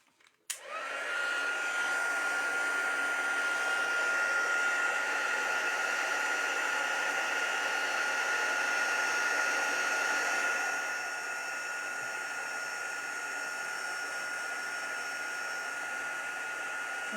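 Heat gun blowing steadily onto a chipboard coating, a loud continuous whooshing hiss that starts abruptly and stays even, dropping slightly in level partway through, with no talking.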